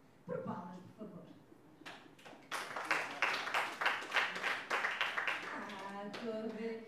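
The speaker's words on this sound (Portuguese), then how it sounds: "Por palmas, por favor" A comedy show audience breaks into clapping after a few spoken words from the stage. Quick, fairly loud hand claps run for several seconds, then fade as talking resumes.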